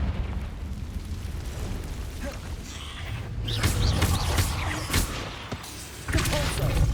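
Explosive spell blasts in the Hogwarts Legacy video game sound as several booming bursts and crashing thuds over game ambience, with a voice shouting in the clip.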